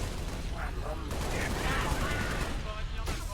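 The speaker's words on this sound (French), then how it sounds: "Ça explose partout." Gunfire and explosions in the video game Halo Reach, a dense barrage of rapid shots and booms, fairly faint and continuous, with bits of radio-style game voices mixed in.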